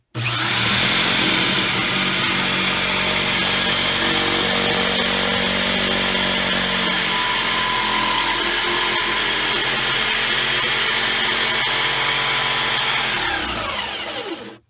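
A homemade table saw built from a drill fitted with a circular blade spins up and cuts through wood, a loud, steady whine with a grinding edge that holds for about thirteen seconds before it winds down.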